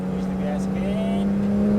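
Porsche GT3 RS engine on a racetrack, a steady sustained drone that rises slightly in pitch as it accelerates, loud and close, with an instructor's voice faintly over it.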